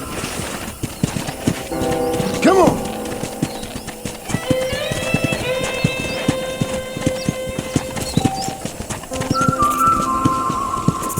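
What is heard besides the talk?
horse galloping in video game Red Dead Redemption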